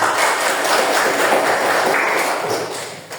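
A classroom bursts into brief, dense clapping from a group of students, a close burst of applause that fades out after about three seconds.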